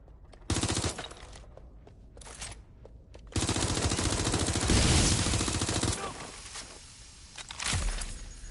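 Video game gunfire in rapid automatic bursts, loud and close, in several sustained stretches with short pauses between them and a voice calling out over parts of it.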